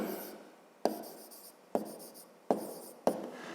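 A pen writes numbers by hand on paper for a fifth-grade maths exercise, four quiet scratchy strokes each starting with a sharp tap and fading off, close and soft with no talk.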